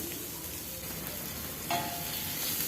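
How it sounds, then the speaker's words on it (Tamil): Shallots and green chilies sauté in a pan with a steady, close sizzle throughout and a brief stir or clink near the end. "சின்ன வெங்காயம் நல்லா வதங்கணும்."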